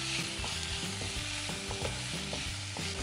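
Moringa leaves with turmeric powder being stirred in a frying pan, a loud close sizzle with quick repeated spatula scrapes and taps against the pan, no voices.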